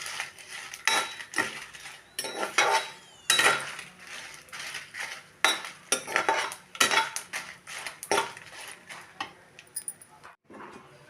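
Dried red chillies are roasted in a pan for Andhra-style gongura chutney, with a spatula repeatedly clanking and scraping against the metal in uneven, close bursts separated by short pauses.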